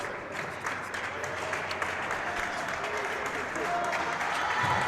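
Spectators at a junior world championship racquetball match clap in sustained applause that swells toward the end, filling the hall, with a commentator talking over it.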